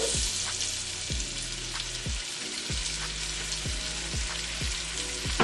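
Onions sizzle in melted butter in a pot with a steady, bright frying hiss, punctuated by regular low thumps or pops about every half second; close and moderately quiet, with no talking.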